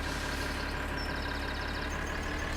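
Tractor engine idling in Farming Simulator 2013, a steady low droning rumble with a constant mechanical hum, running alone without talking over the short stretch.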